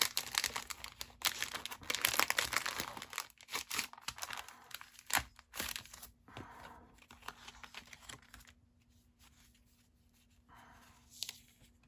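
A paper pad from a papercrafting kit is handled close up, giving irregular crinkles and soft rustles in quick bursts that thin out toward the end, with no voices.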